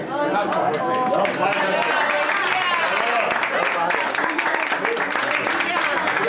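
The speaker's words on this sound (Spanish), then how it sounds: "eso se merece un aplauso" A crowd at a fallas commission gathering in Pobla de Farnals claps steadily and densely, with voices chattering over the applause.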